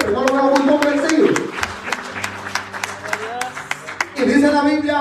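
Congregation at an evangelical church service applauding together, a dense burst of many hands clapping with a preacher's voice speaking over it at the start and end.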